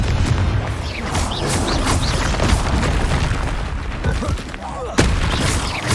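Rapid, overlapping spell blasts and booming explosions from Bombarda and Confringo in the video game Hogwarts Legacy, loud and continuous throughout with a sharp burst near the end.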